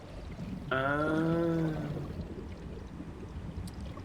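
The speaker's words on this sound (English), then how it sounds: "It's a liquid sound, as if I'm in a cavern with water running." In the truck-driving game Snowrunner, a brief liquid, hollow gurgle like water running in a cavern swells for about a second over a steady low background, then fades.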